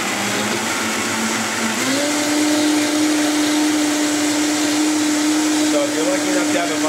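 A Vitamix blender whirs steadily while mixing thin crepe batter of flour, a loud continuous motor drone whose pitch steps up partway through and then holds, with no talk over it.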